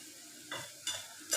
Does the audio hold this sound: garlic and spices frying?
yes